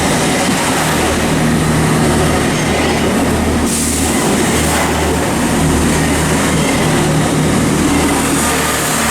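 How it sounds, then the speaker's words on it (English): A Great Western Railway class 165 diesel unit pulls away from Reading West station, its engine drone steady and close with rail rumble and faint wheel clatter throughout, and no voices. "165106 there, departing with the 1309 Great Western Railway service to Basingstoke"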